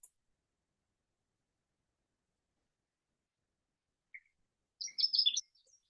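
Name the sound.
Canada warbler call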